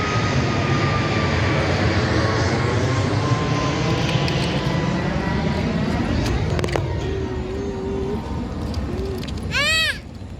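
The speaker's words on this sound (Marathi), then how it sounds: "तर मित्र बघा डबल एक विमान आलंय." Airplane passing overhead, a loud broad engine roar that fills the scene and slowly fades toward the end, with a bird call and a brief squeak near the close.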